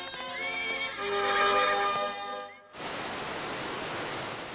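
A Kabardine horse gives a long, quavering neigh lasting a couple of seconds, fairly close and clear, then a steady rushing noise takes over.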